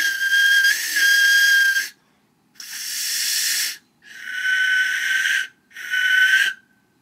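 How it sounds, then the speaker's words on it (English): Codex-style Tezcatli Polka (smoking mirror) death whistle blown in four loud, harsh, shrieking blasts with short pauses between, a breathy hiss over a piercing tone, no talking. "this one's the Codex style Tezcatli Polka, smoking mirror, usually attributed to sacrifices"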